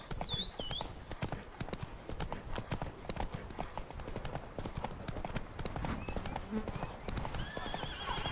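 Hooves clip-clop steadily at a gallop across the whole stretch in The Witcher 3, with a horse whinnying near the start and again toward the end, over a continuous backdrop of game ambience.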